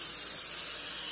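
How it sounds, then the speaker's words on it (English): Cooking oil sprayed from an aerosol can to grease a baking pan, one steady, close hiss with no pauses. "I'm going to use some spray oil."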